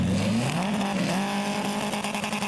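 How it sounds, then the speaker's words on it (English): Front-wheel-drive drag race cars, including a Vauxhall Corsa, launch at a drag strip meeting at Santa Pod Raceway, with a loud, continuous engine roar whose pitch climbs as the cars pull away. "And it's Alan away from the lights first."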